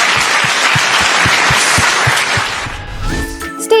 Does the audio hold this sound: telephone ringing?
no